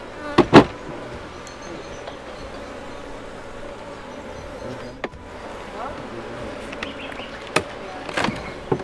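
Honey bees buzzing around a hive, a faint continuous drone in the background with a few sharper close passes and knocks, and brief talk at times.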